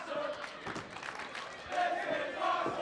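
Wrestling arena crowd roaring and shouting in a steady, moderately loud wash, with swells of cheering and scattered yells, a commentator's voice faintly underneath.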